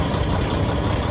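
A 2013 Kenworth T660 truck's engine idles just after starting, a loud, steady, close-up diesel rumble with no other sounds over it.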